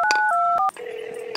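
Mobile phone keypad dialing: a quick series of clear, close DTMF beeps, a brief pause, then a longer sustained tone from the handset, with no talk.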